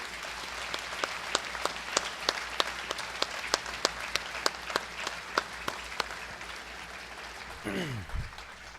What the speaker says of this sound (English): Please join me in giving the parents, families, friends, teachers, and administrators a round of applause